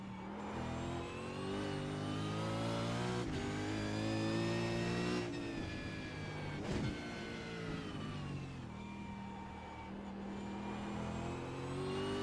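A Supercars race car in the iRacing sim roars through the gears, its harmonic engine note climbing and dropping through upshifts and braking, loud and steady throughout.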